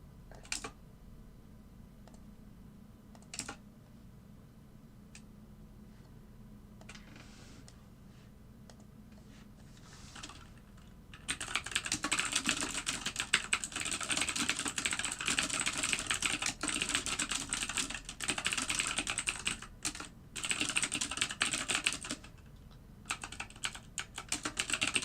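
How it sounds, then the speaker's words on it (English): Typing on a computer keyboard during a live trading session: a few scattered key taps at first, then steady, rapid clattering of keys close to the microphone with short pauses. "David, you don't have to just keep typing."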